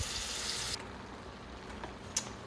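Onions sauté in a pan, a soft steady sizzle that is louder for the first moment and then settles into a faint, even hiss with a brief crackle near the end.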